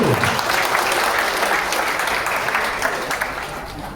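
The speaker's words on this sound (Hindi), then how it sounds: "मैं चाहता हूँ कि सभी लोग इनमें जोरदार तालियों से स्वागत करें।" Loud crowd applause welcoming guests at a Sardar Patel birth anniversary gathering in Hajipur, dense and sustained clapping that slowly tapers toward the end.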